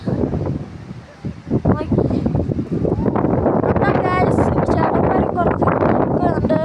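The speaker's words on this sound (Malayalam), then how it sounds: "എന്തൊരു കാറ്റാണെന്നോ, ഭയങ്കര കാറ്റാണ്" Strong wind roars and buffets the microphone in loud, continuous gusts while a person talks over it.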